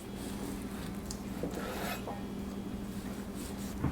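A knife slices through a cooked tomahawk steak on a board, a faint close rasping and scraping with soft irregular strokes.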